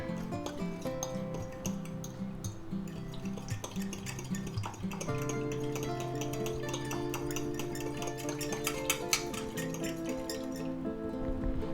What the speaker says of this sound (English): Now we're going to go ahead and mix that up.